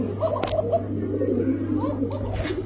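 Pigeons coo in a busy pigeon market, low soft burbling calls repeating among others over steady crowd noise and a constant hum, with a couple of brief louder bursts.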